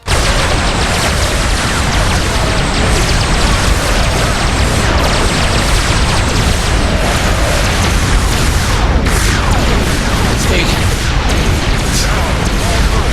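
Fleet weapons and explosions in the space strategy game Sword of the Stars roar as a loud, unbroken wall of booms and bursts, with players talking over the din.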